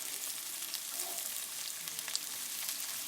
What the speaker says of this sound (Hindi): आलू को आपने इस तरीके से फ्राई कर लेना, थोड़ा सा लाइटली फ्राई कर लेना।